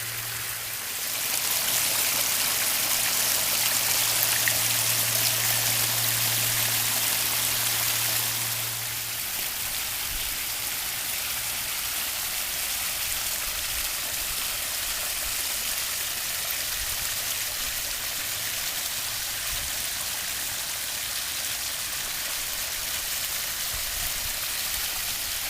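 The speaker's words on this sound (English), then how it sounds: "Thanks for joining me on this little mini pondless waterfall tour." A small backyard pondless waterfall in Scotch Plains, NJ, splashes and trickles in a steady, even rush of falling water, unbroken and alone.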